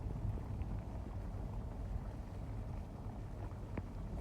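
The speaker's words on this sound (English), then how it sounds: "Pretty windy too." Wind gusting across an open parking area at a snowy ski resort after the first 6-8 inches of snow, a steady low roar buffeting the microphone throughout with no talk.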